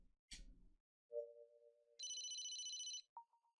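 A phone rings in the game Famicom Detective Club: a steady electronic trilling ring lasting about a second, then a short chime, following a soft low tone and a brief noisy burst, with no talk.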